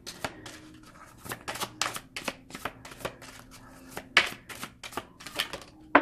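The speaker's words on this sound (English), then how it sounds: "Let's shuffle these a little more carefully." Tarot cards being shuffled by hand, giving quiet irregular crisp flicks and taps in a busy rhythm, close and soft, with no talking.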